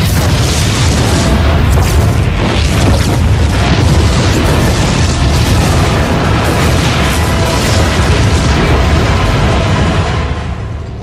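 Explosions in StarCraft 2: Heart of the Swarm rumble as dense, continuous booms and bursts aboard a ship under attack, loud and overlapping for the whole stretch, then easing off slightly at the end.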